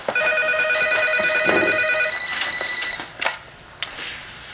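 A telephone rings indoors with a bright electronic trill that repeats for about three seconds. It then stops, leaving a few soft handling sounds and no speech.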